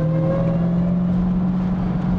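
A 2023 Dodge Demon 170 with its supercharger giving off a steady, loud, high whine over a constant engine drone, with no break over the whole stretch.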